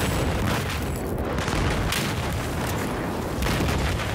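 Battlefield 4 battle noise with dense, continuous low booms and rumbling explosions, loud and layered throughout with no clear voices.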